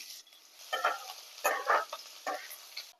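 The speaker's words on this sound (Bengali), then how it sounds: "একই সাথেই দিয়ে দেব কাজু কিশমিশ অল্প করে নাড়িয়ে নেব" Cashews, raisins, ginger paste, bay leaf and whole garam masala sizzle in a pan, stirred in several short scraping bursts over a soft hiss for a festive pulao.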